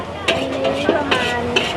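Brief scraping and clattering of a utensil stir-frying duck in a hot wok, with light sizzling underneath and a few sharp strokes.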